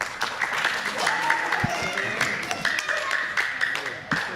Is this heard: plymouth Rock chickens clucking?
no